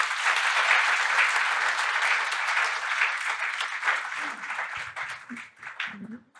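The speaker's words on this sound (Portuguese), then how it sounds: "então peço uma salva de palmas aí para o Nicolas." An audience at an innovation session of an engineering conference applauds steadily for a panel, the dense clapping holding loud for several seconds before thinning out, with a few faint voices near the end.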